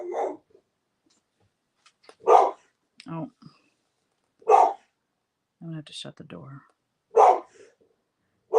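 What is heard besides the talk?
dog barking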